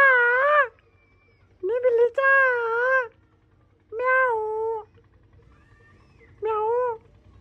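A cat meows four times, loud and close, in clear separate calls with short pauses between them over a quiet background.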